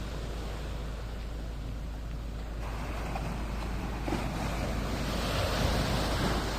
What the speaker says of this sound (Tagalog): Wow! Ganda ng alon.